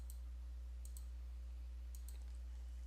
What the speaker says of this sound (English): what I'm doing is I'm clicking